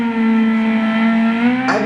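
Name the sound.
Honda Civic race car engine in Gran Turismo 6 video game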